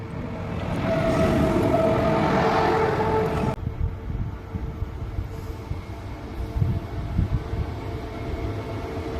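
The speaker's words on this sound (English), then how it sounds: "Before my train could arrive, an intercity train arrived on the same platform I'd be using." An intercity train pulls into a station platform, a broad swelling rumble with a tonal whine that cuts off sharply, leaving quieter low platform rumble and distant clatter.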